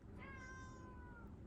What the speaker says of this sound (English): my cat wants to play